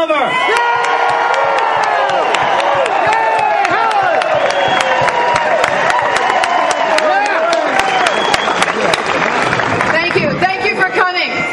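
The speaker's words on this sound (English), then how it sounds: "Big round of applause" Loud crowd at an outdoor rally against illegal immigration, cheering, whooping and clapping for the next speaker, with shouts and voices layered over continuous applause, close and energetic throughout.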